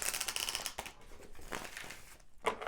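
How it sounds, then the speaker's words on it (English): Tarot cards are shuffled quickly by hand, soft close crinkly riffles and slaps coming in quick irregular bursts with brief pauses between, faint and without talk. "I'm actually just gonna shuffle these cards again very quickly"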